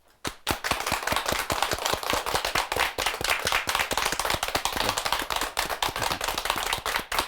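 A hall audience claps in welcome for a Korean Catholic nun speaker, loud, close, sharp individual claps forming dense continuous applause that starts abruptly and carries on without voices.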